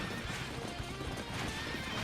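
Horse neighing and clip-clopping hooves in the action game Sengoku Basara: Samurai Heroes, a dense, steady wash of battlefield noise with whinnies and hoofbeats mixed in at moderate level.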